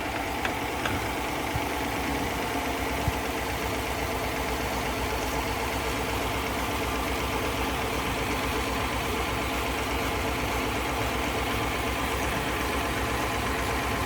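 A 2023 Chevrolet Equinox engine running steadily after a high pressure fuel pump repair, a continuous even idle with a faint ticking texture and no talk.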